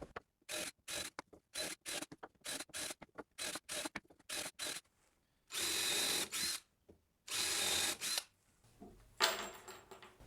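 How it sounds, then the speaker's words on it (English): A power drill pre-drills holes in 8-inch wooden sawhorse base pieces, heard as a rapid series of short, close whirring bursts followed by a few longer runs, with no talking. "Now here I'm just pre-drilling some holes in the 8-inch pieces for the base"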